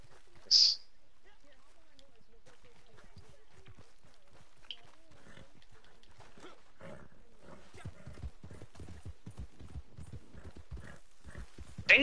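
A horse in the Red Dead video game gallops with a quick, steady clip-clop of hooves that builds over time, joined early by a sharp neigh. Voices talk quietly in the background.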